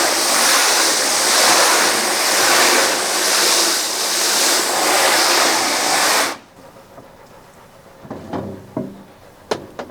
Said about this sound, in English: you just kind of hit it with water until everything starts to wash out